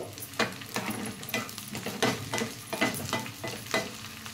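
Onion pieces fry in hot oil in a pan, giving a steady close sizzle broken by repeated scraping strokes of a stirring utensil at a roughly regular rhythm.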